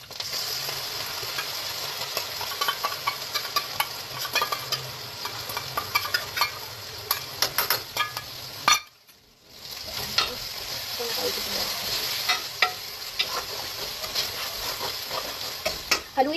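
Pasta is stirred with a soy sauce mixture in a hot frying pan, giving steady sizzling and frying crackle with scraping stir strokes, a brief pause midway, then continuous sizzle again.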